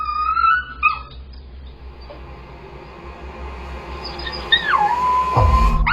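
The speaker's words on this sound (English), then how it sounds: "Then he starts howling." A caged puppy gives a drawn-out, wavering howl that rises and falls before settling into a steady held note, close and fairly loud over a low background hum, with a brief whimper earlier.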